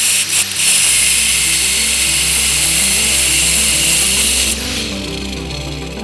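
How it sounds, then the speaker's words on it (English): A metal grinder cuts through the plastic end of a Hasbro Nerf M-41A Pulse Rifle part, a loud sustained high whine that holds steady for several seconds and then drops in pitch as the cut ends. "I'm going to cut the end of this off with a metal grinder here"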